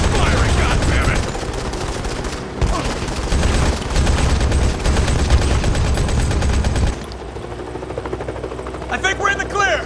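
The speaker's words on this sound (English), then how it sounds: "Keep on firing, goddammit!" Heavy gunfire in the video game Modern Combat: dense, continuous automatic bursts with a helicopter-like drone underneath, loud and close, easing near the end as shouted voices break through.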